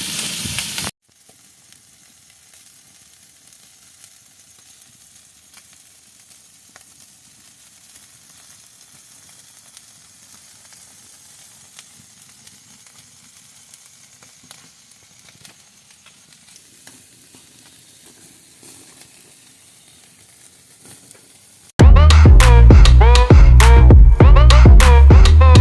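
Shish kebab fries in oil in a pan inside a small hut, with a steady faint sizzle running for a long stretch before a sudden loud burst of fierce hissing and spattering.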